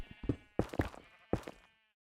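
Sheep in Minecraft let out three quick, synthetic-sounding bleats in a row, clear and close with no other sound, the last one trailing off into silence.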